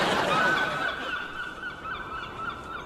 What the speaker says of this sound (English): the seagulls are circling